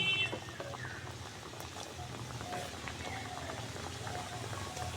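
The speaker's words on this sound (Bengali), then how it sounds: "বাকি যেগুলো রয়েছে সেগুলো কিন্তু একইভাবে আমি তেলে দিয়ে ভেজে নেব" Sweets made from flour dough are deep-frying in hot oil, giving a continuous crackling, bubbling sizzle like patter, heard close with a voice talking over it.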